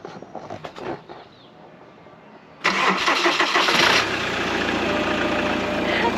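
A van engine cranks over briefly, falters, then catches on a second attempt and settles into a loud, steady mid-pitched idle that runs on to the end, close to the listener.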